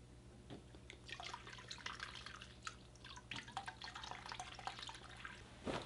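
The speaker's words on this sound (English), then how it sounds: "So now this is going to be the third liter of water that I am pouring into the pillow." Water poured slowly from a bottle into a Mediflow waterbase pillow, a soft continuous trickle with scattered drips and gurgles, fairly quiet and close, with no talking.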